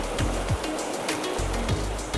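Fast-flowing pocket water in a river rushes in a steady, loud, broadband roar, with brief low thumps from movement nearby.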